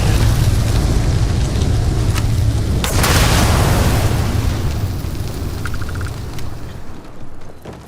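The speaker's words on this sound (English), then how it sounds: "One grenade, kablooey." A grenade sets off nearby explosives in Starfield, a loud close blast that swells and rumbles before slowly fading over several seconds.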